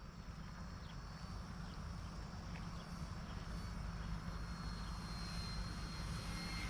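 A small HobbyKing Corsair RC model airplane drones steadily overhead at a distance, a constant faint motor buzz without any talking.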